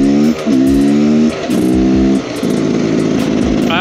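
Beta X Trainer 300 two-stroke street-legal motorcycle revving loud and close while riding, its crisp buzzing engine rising through the gears with brief dips between shifts, no talk.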